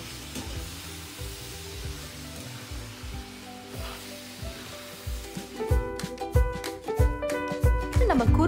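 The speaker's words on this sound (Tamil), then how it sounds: "தென் ஜிஞ்சர்லேருந்து ஆரம்பித்து ஒரு ஒரு பொருட்களை போட்டு நல்லா ஃப்ரை பண்ணிக்கோங்க" Ginger and spices fry in oil for a chicken korma paste, crackling and sizzling steadily, with stirring scrapes and clinks that grow busier and louder toward the end.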